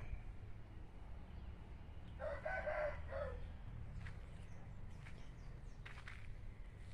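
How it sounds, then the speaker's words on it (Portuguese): Chickens and a rooster at a backyard chicken coop, heard faintly and at a distance, with a short crow or call rising briefly over a steady low background hum. "Olha lá o galinheiro."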